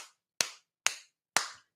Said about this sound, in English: I need to do a manual clap